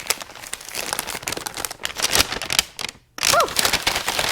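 Someone tears open a tightly sealed gift package, with continuous close crinkling and ripping of wrapping, a brief pause, then more rustling and tearing.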